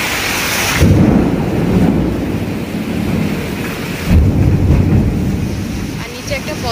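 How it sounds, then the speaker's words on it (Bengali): A thunderstorm seen from a balcony: steady rain and wind with two deep rolling rumbles of thunder, loud and close, and a faint voice in the background. "বিদ্যুৎ চমকাচ্ছে।"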